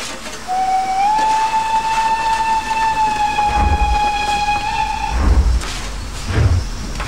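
A Br 95 steam locomotive in Train Simulator 2015 sounds a long, steady steam whistle for several seconds, followed by low rumbling chuffs and rail noise as it pulls away.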